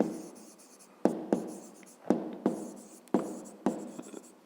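Pen strokes write numbers in a school maths notebook: soft, close scratching broken by a run of crisp taps about every half second, with no other sound around.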